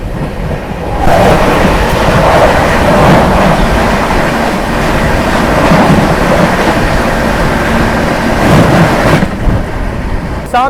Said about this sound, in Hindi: सामने से आ रही है न्यू दिल्ली ललित ग्राम वैशाली एक्सप्रेस